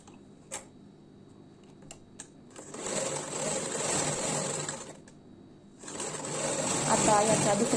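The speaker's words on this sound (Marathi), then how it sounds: "आता याला थोडंसं फोल्ड करून याला परत शिलाई करून घ्यायची आहे." A sewing machine stitches folded blouse fabric in two steady whirring runs, close up, after a few faint clicks and a brief pause.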